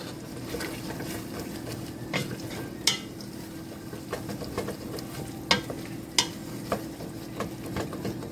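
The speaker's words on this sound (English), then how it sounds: "I'm gonna add my mushrooms." Mushrooms being stirred as they fry in a pan for chicken with peanut sauce. A steady soft sizzle runs throughout, with irregular scraping and clicking spatula strokes against the pan.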